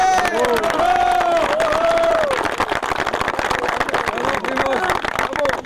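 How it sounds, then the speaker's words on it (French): Crowd cheering and clapping at a gathering for canoe voyageurs finishing an Abitibi-to-Témiscamingue expedition, loud and continuous, with voices and whoops mixed through the noise. "j'espère qu'on peut l'applaudir"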